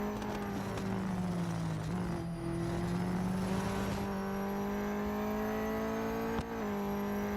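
A racing car engine in Real Racing 3, a sustained steady drone with slight pitch shifts as the car runs at reduced speed, no voices over it.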